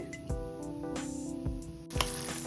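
Rice flour murukku fries in hot oil with a continuous close sizzle, broken by a few sharp pops and clatters as it is turned.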